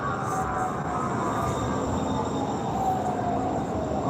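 Steady low rumble and hum from inside a westbound Bluebird train heading to Hillsboro, continuous and fairly loud, with faint tonal whines above the rolling noise and no voices.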